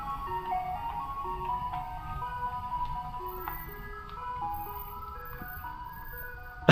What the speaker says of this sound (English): is that an ice cream truck going on?